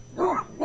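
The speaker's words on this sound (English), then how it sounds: "Oh, those are my dogs. I have dogs." A dog barks twice in quick succession, short sharp yaps a little way off, with no other sounds.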